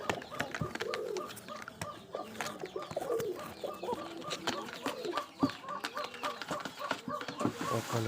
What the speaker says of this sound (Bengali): কার্টুনের মধ্যে ডাকতে শুরু করে দিচ্ছে এবং মারামারি করতেছে।